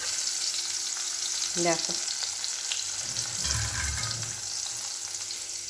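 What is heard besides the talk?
frying spiny gourds (kakrol) in oil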